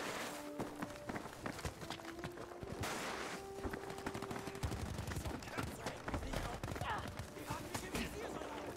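Rapid bursts of gunfire in the tactical shooter Squad, aimed at a spawn point during an 8v8 conquest match, crack repeatedly in dense clusters with footsteps and movement mixed in, fairly close and steady throughout.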